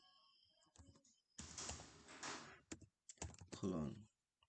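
Typing on a computer keyboard while entering HTML/CSS border code, heard as quiet bursts of quick key clicks with short pauses between them.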